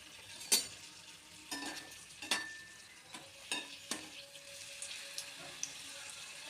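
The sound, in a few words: papadum snack frying in hot oil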